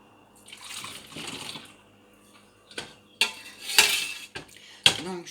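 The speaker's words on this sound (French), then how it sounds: "on verse patiemment tous les contenants" Homemade laundry detergent is poured into containers: a liquid gurgle and trickle, then sharp clinks and knocks as the containers are handled, all close by with no talk.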